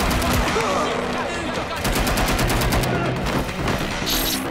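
Gunfire from the Watch Dogs: Legion video game, with rapid bursts of automatic shots rattling loudly against a dense game soundscape, and a voice speaking over parts of it.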